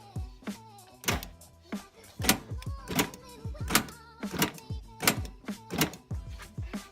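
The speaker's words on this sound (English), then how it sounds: "Functioning locks, both doors." Power door locks on a Ford Mustang fox body, freshly repaired, actuating in a series of sharp mechanical thunks and clicks at close range, repeating several times in quick bursts.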